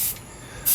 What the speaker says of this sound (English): we're just going to mist it, and we're going to hold that spray can back